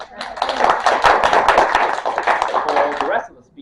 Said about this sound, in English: Please give a round of applause to them.